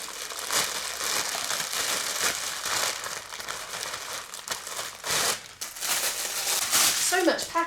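Plastic packaging from an online order crinkles and rustles nearly continuously at close range, with a brief pause, while a person talks over it.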